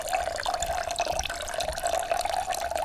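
Water runs steadily from a tap for an electrostatics experiment, a continuous close splashing stream with a bright hiss and no talk.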